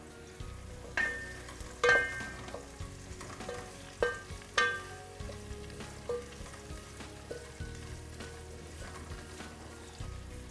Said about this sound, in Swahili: Wakati unaendelea kukaanga vitunguu vyako, utaweka viazi.